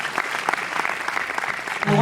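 An audience in a cinema breaks into applause for two guests at a film screening event, a dense, lively clatter of many hands close by, with a voice rising at the very end.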